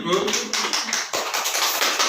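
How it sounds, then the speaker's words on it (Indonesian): A small group at a training session in Indonesia claps in a quick, steady patter, close and fairly loud, with some voices mixed in. "Tepuk tangan, Bu."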